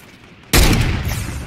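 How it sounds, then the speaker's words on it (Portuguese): A gunshot in the Fortnite video game: a sudden loud blast after a quiet moment, followed by a booming, rumbling tail. "Como que eu acertei esse tiro"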